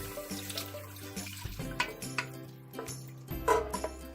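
Braggs Liquid Aminos is poured into a pot of cooking onions and garlic, giving a close, steady trickle and splash mixed with faint clinks of pans and utensils.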